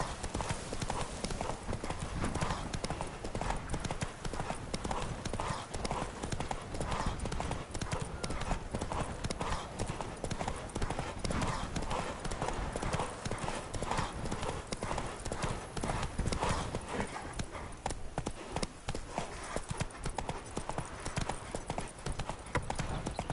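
The horse Roach galloping in The Witcher 3, a rapid continuous clatter of hooves close by that runs without pause, with occasional voices underneath.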